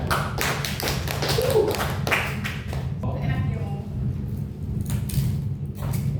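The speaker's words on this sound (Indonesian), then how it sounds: "Wah, kelompok 2 juga bagus sekali. Beri tepuk tangan juga." A classroom group claps for a presenting team: a few seconds of dense, scattered hand claps, then speech and room noise take over once they stop.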